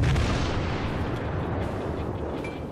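Heavy battleship guns of the Kawachi firing in World of Warships, a loud sustained booming roar of artillery with rumbling echoes filling the whole moment, no voices.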